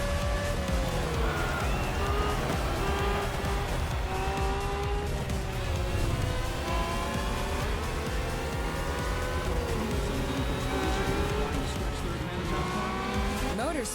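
Race car engine in The Crew Motorfest played on a steering wheel, revving and accelerating hard with rising and falling gear-shift tones and tire squeal, loud and continuous throughout.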